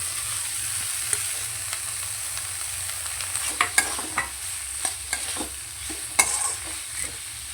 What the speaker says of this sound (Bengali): মশলা থেকে তেল ছাড়তে শুরু করেছে ডুমুরটা দিয়ে দেবো